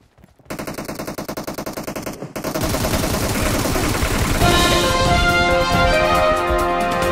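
Rapid automatic gunfire from PUBG Mobile team deathmatch, starting as a stuttering burst of shots and then building into dense, continuous, loud fire that layers several weapons together with no talking.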